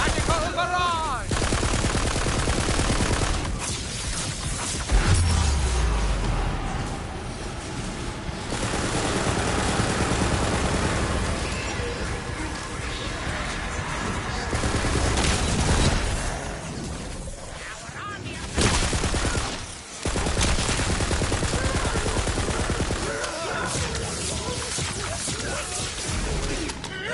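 A Magical Barrage spell attack in the fantasy shooter Tiny Tina's Wonderlands fires as a dense, loud stream of rapid gunfire-like blasts, continuous over game effects and music with a brief dip near the end.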